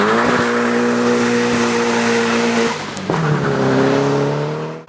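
A Nissan Silvia Spec R S15 running an aftermarket exhaust revs hard and loud up close, holds a steady high drone, briefly drops off, then climbs back into a second sustained rev.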